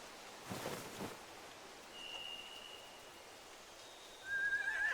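Horses whinny in The Walking Dead: The Final Season video game, faint and distant at first, then a clearer, louder neigh near the end over quiet ambient background with brief soft rustles.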